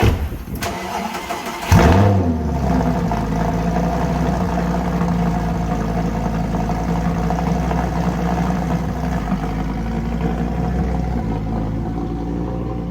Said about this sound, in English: We got a cold start. This car is loud.